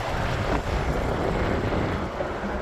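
Wind buffets the microphone outdoors in Christchurch with a constant rough rumble, steady and fairly loud from start to finish, with no talking.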